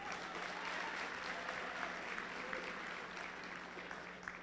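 A crowd applauds steadily throughout at a high school pep rally, dense clapping heard from within the room, with no voices standing out.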